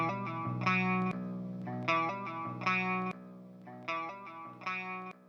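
A synth or instrument phrase in a music mix carries a delay effect filtered dark, its repeating chords and echoes sounding muffled and dull, with no talking.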